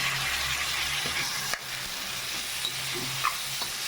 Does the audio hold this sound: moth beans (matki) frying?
yes